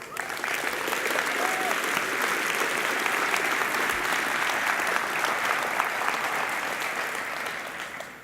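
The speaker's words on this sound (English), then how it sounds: "we're just going to give all those people a round of applause" A large conference crowd at PyCon 2019 applauds steadily, dense clapping sustained at an even level throughout with no pause.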